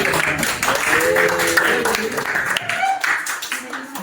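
A high school class applauds a student, scattered clapping from many hands in a classroom alongside voices and murmuring, fading toward the end.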